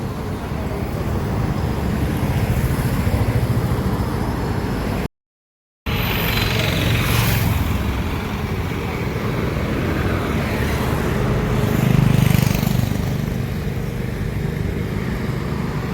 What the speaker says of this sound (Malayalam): നല്ല തിരക്കാണ് റോഡ്.